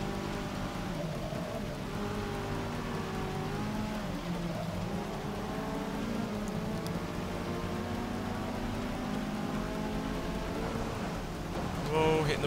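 Rain falling in the racing game Forza Motorsport 6, a steady wash of rainfall over a car's engine drone, with someone talking throughout.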